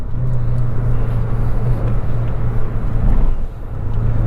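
An Opel Astra driving on a race track, heard from inside as a loud, continuous low engine drone and road rumble that dips briefly near the end.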